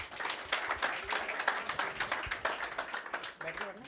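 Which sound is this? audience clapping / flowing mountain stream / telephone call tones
audience clapping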